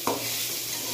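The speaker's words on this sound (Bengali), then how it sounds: "একটু নেড়ে দেব" Potatoes and bitter gourd frying in a pan, with one quick scrape of a stirring spoon at the start, then a steady close sizzle holding throughout.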